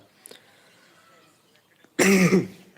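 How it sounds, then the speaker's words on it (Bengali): A single loud, harsh cough near the microphone ends an otherwise quiet stretch with faint background noise. "ভাই কাশি লাগতেছে কেন"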